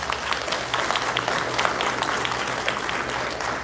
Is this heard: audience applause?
yes